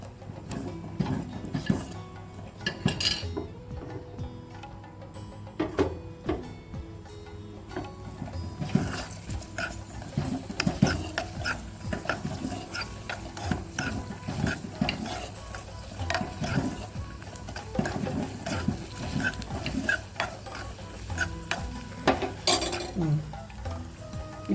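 Cashews frying in ghee in a pan for sago payasam, being stirred with a spoon: a soft continuous sizzle under frequent scrapes and clinks of metal on the pan, close and moderately loud.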